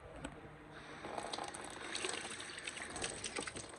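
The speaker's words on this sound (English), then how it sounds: "I'm gonna turn it on and see like how the water pressure is" A camper's kitchen sink faucet runs with its aerator removed, giving a soft, continuous splashing stream of water that is fairly quiet and heard alone.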